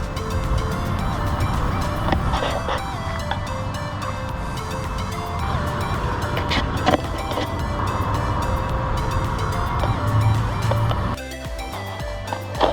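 A 2020 Toyota Tacoma TRD Off Road on new Method Race wheels and tires, driving with a rumbling engine and road noise, punctuated by a few clunks and a shift in engine tone near the end.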